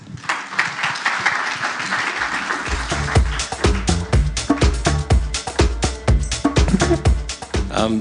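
An audience at an International Women's Day bell-ringing event for gender equality claps loudly. A dense wash of applause turns into sharper, distinct close-up claps as it goes on.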